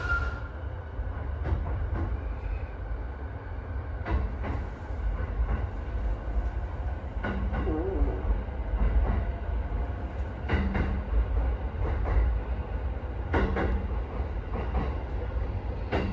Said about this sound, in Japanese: この電車は南武線各駅停車が川崎行きです。